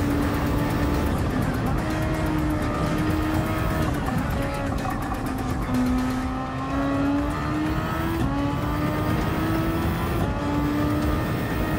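Super Formula single-seater racing engine in Gran Turismo 7, a steady high-pitched drone with gear-change steps and rising revs throughout, loud and continuous, blended with faint commentary underneath.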